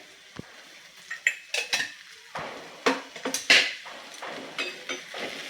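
Grated sweet potato with salt and sugar is mixed in a pan, a spoon clinking and scraping against the metal in irregular strokes. The close, sharp taps come in quick bursts against a quiet background.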